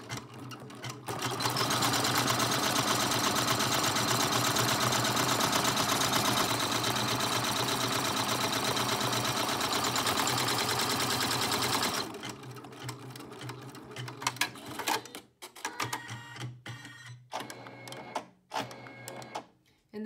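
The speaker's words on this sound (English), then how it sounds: "stitch out the last step of the stitch map to triple stitch the front to the back" An embroidery sewing machine triple-stitches an appliqué felt chick-in-egg design. It gives a steady, close, rapid mechanical whirr for about twelve seconds, then falls into quieter clicks and handling noises.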